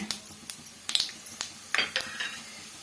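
Chana dal and urad dal fry in a pan with mustard seeds, while a spoon clinks and scrapes against the metal in several sharp, close knocks over a faint background sizzle.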